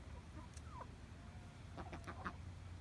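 Female Indian runner duck giving a few deep, low quacks at a homestead, faint and scattered bursts near the end over a background hum.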